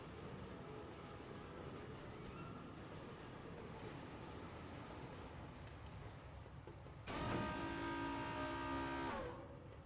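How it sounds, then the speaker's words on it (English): A train in the video game Forgotton Anne gives off a steady, low rumble throughout. Near the end a bright horn-like tone joins for a few seconds over the rolling noise. "we are going on top of the train so that we can open up for the emergency break room"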